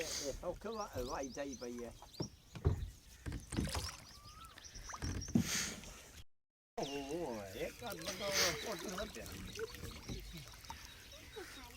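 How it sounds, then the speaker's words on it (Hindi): A rowing boat moves along a river with soft splashing and creaking of the oars, while several people talk over it almost all the time. "ये अंकल की जो कश्ती चला रहे हैं"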